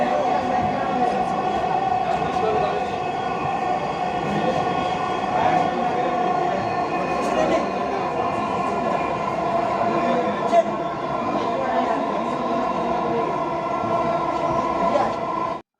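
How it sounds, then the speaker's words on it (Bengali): Dhaka metro rail train running from Agargaon toward Uttara, heard from inside the car as a steady, loud rolling rumble with a constant motor whine and faint rattles throughout, with no break. "দেখতে পাচ্ছেন যে আমাদের ট্রেনটি ছেড়ে দিয়েছে"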